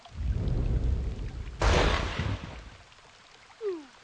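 A sharp crack of thunder from a lightning strike in the Blue Archive video game bursts out over a steady rumble of storm and rain, then fades into a softer tail.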